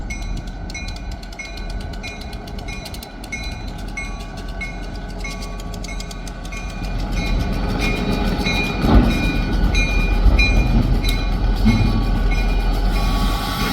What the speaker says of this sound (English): now it gives you a good idea how long this train actually is